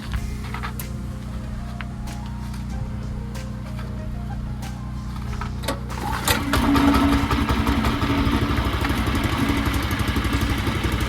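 Predator 212 small engine on a 40-year-old Bolens snowblower starting and settling into a steady idle, a close chugging putter that begins partway through after low background noise and clicks.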